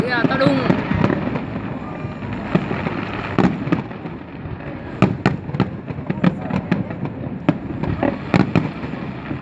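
Fireworks burst at the Da Nang International Fireworks Festival in Vietnam, with repeated sharp pops and crackles at an irregular rhythm, some near and loud, over a constant crowd murmur with people talking throughout.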